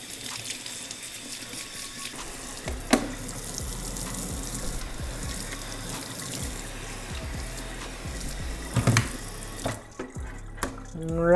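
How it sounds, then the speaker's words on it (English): A fine metal mesh PC dust filter is rinsed under a running kitchen tap, with a steady, loud hiss of water splashing into a sink and occasional clunks and knocks before the flow stops near the end. "a real easy way to clean this out is just run it over some water"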